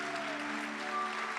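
Church congregation applauding during a worship service, a steady wash of clapping with sustained tones and a held note behind it, moderately loud throughout.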